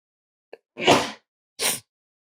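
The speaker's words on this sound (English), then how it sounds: "Excuse me, I gotta sneeze." A single sneeze close up: a short sharp intake followed by a loud burst, then a second burst a moment later, with silence around them.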